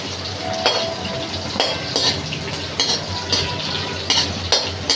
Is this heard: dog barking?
no